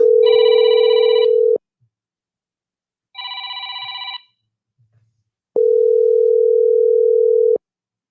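A telephone call going unanswered: a loud, steady dial tone, then a trilling ring tone, a pause, and the steady tone again, all alone with no voices.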